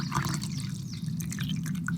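Water tipped out of a camping stove pot splashes and trickles briefly, a close, soft pouring sound with no voices.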